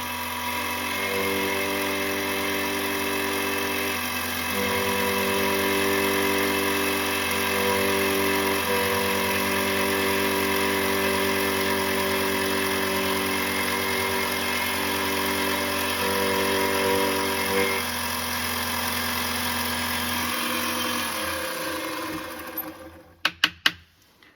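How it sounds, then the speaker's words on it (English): A key cutting machine mills a blank car key, a loud steady motor hum with a grinding metallic tone that holds for about twenty seconds, then winds down and ends in a few clicks and knocks. "listen to the sound of the machine and see whether there is more metal to be cut"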